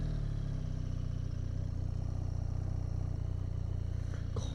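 A BMW R1300GS motorcycle engine runs during a ride with a steady, low, throbbing drone that stays even at moderate volume, and there is a brief faint rise near the end. No voices are heard.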